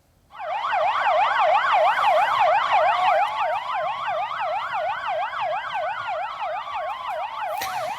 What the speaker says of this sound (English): the sound of sirens filled the air